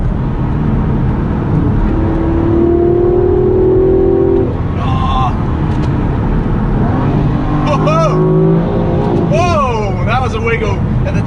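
The engine of a new 2017 car revs up repeatedly as it accelerates through smooth gear shifts toward about 6,000 to 6,500 RPM. Several rising whines build and drop back at each shift over a constant loud rumble of road and cabin noise.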